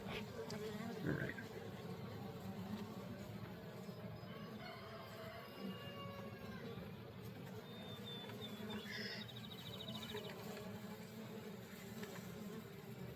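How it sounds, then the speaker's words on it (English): Honey bees buzzing around an open beehive during a varroa mite check, a dense continuous hum up close with a few faint higher tones and some low background noise. "A lot of bees."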